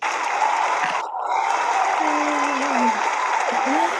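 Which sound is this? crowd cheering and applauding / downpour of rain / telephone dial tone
crowd cheering and applauding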